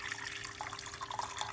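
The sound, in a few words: water being poured into a pot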